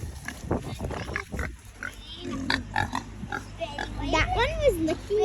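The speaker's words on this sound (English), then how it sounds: "Hi, big pigs." Pigs on a two-acre homestead grunt and oink close by, with occasional squeals, mixed in with a person talking to them.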